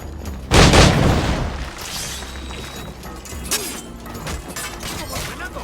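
A powder keg blows up in Assassin's Creed IV Black Flag with one heavy, close boom, then trails off into crackling debris and a low rumbling battle ambience.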